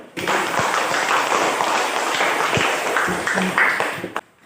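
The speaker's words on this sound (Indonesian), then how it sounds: "tepuk tangan dulu" A classroom of young pupils applauding together, a dense, steady wash of clapping that fills the whole stretch, loud and close, then stops abruptly near the end.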